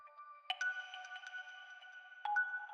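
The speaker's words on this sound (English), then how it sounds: "rain synth sound effects" A plucked rain synth effect in a 90s dream trance track, soft tonal pulses with two brighter struck accents and sustained ringing tones, quiet and alone.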